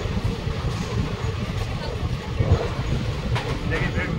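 Black Diamond Express running from Howrah to Dhanbad, heard from on board as a steady, loud low rumble of wheels and carriages that continues without a break.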